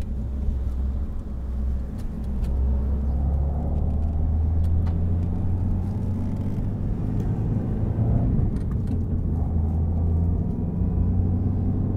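A Toyota 86 (ZN6) sports car's engine and exhaust rumble steadily nearby, a deep throaty drone with slight surges in revs, no voices.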